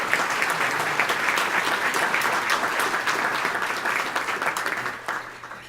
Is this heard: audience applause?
yes